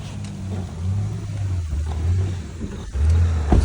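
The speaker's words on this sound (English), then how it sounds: "you can get a box truck up the driveway" A box truck engine rumbles steadily as it climbs a residential driveway, low and close, with the revving swelling and easing and then surging near the end, with no voices.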